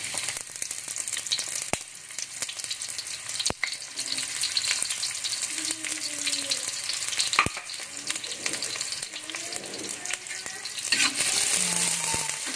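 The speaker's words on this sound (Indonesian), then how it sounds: "Lalu kita tumis. Yang pertama dulu adalah bawang bombaynya." Onions sizzle steadily in a few spoonfuls of hot cooking oil in a pan, with occasional sharp clicks and scraping stir sounds over the continuous frying hiss, close and fairly loud throughout.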